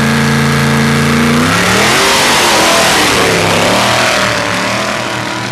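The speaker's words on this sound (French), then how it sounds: "Alors, on va peut-être voir la vitesse de pointe de ce Dragster." Dragster engine at a race start, a loud close roar that climbs in pitch as it revs hard, rising harmonics sweeping upward and staying dense and loud before easing slightly.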